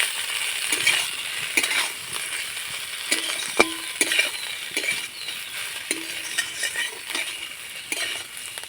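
Fried paneer and potato filling being stirred in a pan, with repeated metal spatula scrapes and clinks against the pan over a soft background sizzle, close and without talk.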